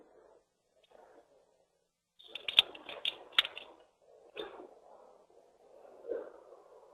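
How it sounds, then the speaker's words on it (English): A few people type on computer keyboards in a quiet room during a leadership session, with faint, scattered bursts of clicking keystrokes separated by pauses. "We're just having a few people typing up that now."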